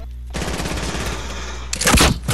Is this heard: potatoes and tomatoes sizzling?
no